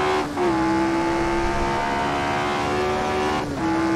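Small four-cylinder engine of an AC Legends prototype race car in Assetto Corsa, droning at steady high revs with a strong buzzing tone, dipping briefly at two gear shifts, close and loud.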